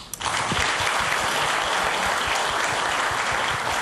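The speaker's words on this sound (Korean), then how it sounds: "여러분 다시 한 번 더 큰 박수 부탁드립니다" A large audience at an award ceremony bursts into applause, the dense clapping starting abruptly and continuing loud and steady throughout without a voice over it.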